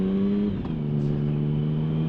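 A motorcycle engine, recently repaired after weeks of not holding idle, idles steadily nearby. There is a brief dip in its hum, then it settles into an even, low drone.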